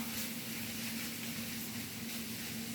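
Onions frying in a skillet give a steady, close, even sizzling hiss that holds without a break, with a faint low hum running beneath it.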